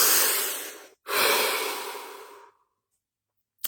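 One person takes a deep, noisy breath in and a long breath out, close and alone, then there is silence and a small click.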